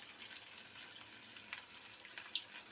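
Boorelu, stuffed sweet dumplings, sizzle in hot oil with a steady, faint hiss broken by small crackling pops.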